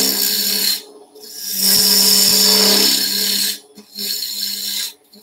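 A wood gouge cuts a wooden acorn box spinning on a lathe, giving a steady scraping, rasping hiss in two sustained passes, the second shorter, with brief quieter gaps where the tool lifts off.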